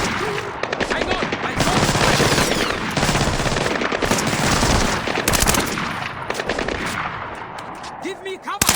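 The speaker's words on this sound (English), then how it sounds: "Taking heavy fire!" Dense, continuous gunfire from the Splinter Cell Blacklist video game, rapid automatic bursts layered with heavier shots, loud and sustained almost throughout, with brief shouted voices breaking through near the end.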